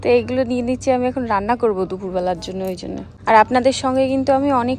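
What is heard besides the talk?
No distinct noise like a dog, phone or traffic.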